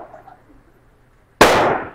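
A single sharp gunshot from a Heritage Rough Rider single-action revolver firing .22 Magnum, a loud close crack that rings and decays after a quiet stretch.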